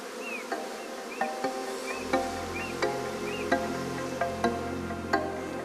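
A swarm of honey bees on a farm crawls uphill into a closed, dark hive. Their steady, close buzzing hum carries short, high chirps and soft ticks scattered throughout, with no talking.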